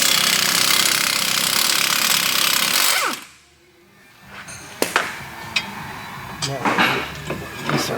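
An impact power tool loosens 18mm bolts on the front strut of a 2009 Volvo V70, a loud continuous rattling whir for three seconds, then quieter clanks and handling noises.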